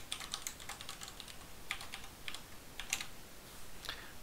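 Quiet keystrokes on a computer keyboard as a password is entered, with irregular soft clicks spread over a few seconds against a faint background hiss.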